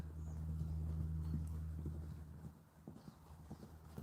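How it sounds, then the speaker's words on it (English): Horse hooves clip-clop in an uneven series of soft, fairly faint knocks over a low steady hum, with no talk. "Love the sound of the hooves."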